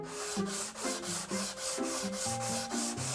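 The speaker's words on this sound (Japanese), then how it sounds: "それではサンドペーパーの240番で表面削っていきます。" Rhythmic back-and-forth rubbing of 240-grit sandpaper over a wooden surface inside a kei camper van conversion, close and steady in regular strokes, with a faint tonal hum running underneath.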